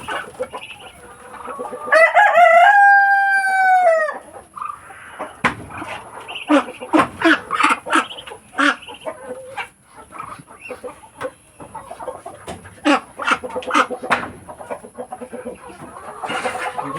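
Breeder chickens cluck in a noisy, busy chorus at feeding time on a backyard farm, with one rooster crowing loudly near the start. The clucking stays close and constant throughout.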